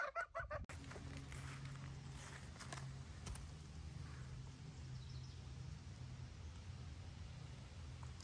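Backyard fowl cluck and honk softly at close range in a farmyard orchard where geese, goslings, ducks and chickens graze the grass, with a few sharp sounds at the start followed by a low, continuous chatter.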